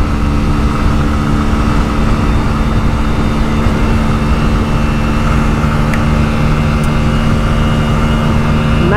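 A 2022 Hero Splendor Xtec motorcycle engine running flat out at top speed, a loud, constant, buzzing drone with steady harmonics and heavy wind rush, unbroken for the whole stretch.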